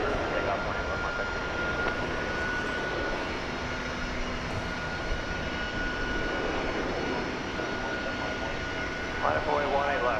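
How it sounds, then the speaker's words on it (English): A United Airbus A319 jet at DFW Airport gives a steady, distant engine roar that holds evenly throughout, with a faint tonal whine riding on top. "there's a United plane. Flight 2371, an Airbus A319 going to San Francisco."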